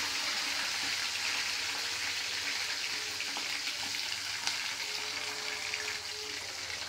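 Curry leaves and onions frying in oil in a pan, a steady dense sizzle with light crackles and faint clinks, continuous and close throughout with no voices.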